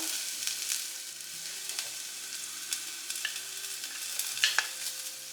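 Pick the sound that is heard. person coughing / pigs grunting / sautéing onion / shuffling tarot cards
sautéing onion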